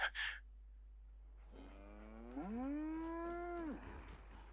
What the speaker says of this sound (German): Da gerade eine Kuh.